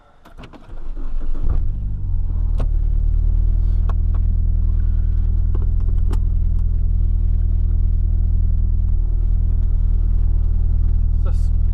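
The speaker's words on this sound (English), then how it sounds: "we'll take it for a quick drive and see how it is" Nissan S13 with an SR20DET engine starts moving, its steady low engine drone and road rumble filling the cabin, loud and close, continuous after a brief rise in the opening seconds.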